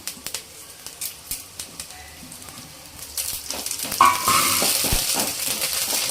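Curry leaves hit hot oil while cooking Tamil fish kulambu, and after a few light taps a loud crackling sizzle bursts up and keeps going steadily.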